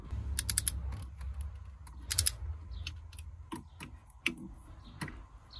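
A ratchet clicks in short bursts while bolts are tightened on a Mercedes OM642 3.0 V6 diesel engine in a CLK 320, with quick close rattling runs and separate single clicks against a quiet background.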